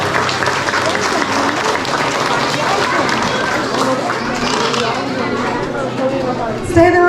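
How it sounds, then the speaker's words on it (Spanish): Crowd applauding kindergarten children at a closing ceremony in Ameyaltepec, Guerrero, dense continuous clapping mixed with chatter and voices, loud and sustained throughout. "Aplausos para estos pequeñitos."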